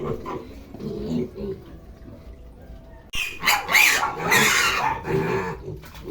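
Pigs on a Filipino farm squeal and grunt loudly in bursts during the second half, following quieter mixed noise, with people talking nearby.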